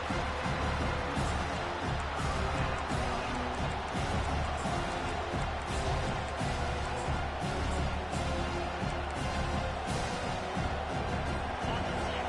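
A dense, steady stadium crowd roars and cheers continuously during a third-down defensive play in an American football video game, loud and unbroken, with commentary voices mixed underneath.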